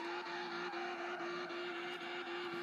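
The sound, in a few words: car doing donuts in racing video game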